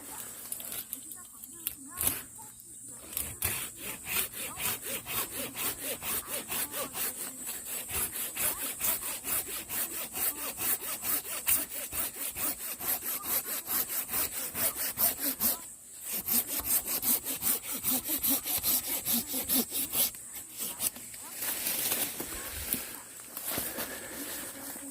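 A hand saw cuts through a thick branch of a peach tree that was grafted two years earlier, in rapid rhythmic back-and-forth rasping strokes, close and continuous, with a few brief pauses.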